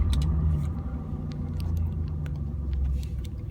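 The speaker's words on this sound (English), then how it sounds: "starting the engine now" A car engine starts and settles into a steady low idle rumble close by, with faint clicks above it and no talking.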